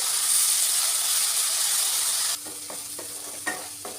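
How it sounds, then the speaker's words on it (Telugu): Onion and green chili paste frying in oil for fish curry, a loud steady sizzle that suddenly drops to a softer hiss with light stirring scrapes and taps. "పేస్ట్ అయితే మంచిగా నూనెలో వేగి ఆయిల్ మొత్తం సపరేట్ అయిపోతుంది"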